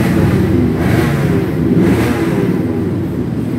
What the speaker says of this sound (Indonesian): Ini merupakan motor cadangannya Wilman Hammer di kelas Expert.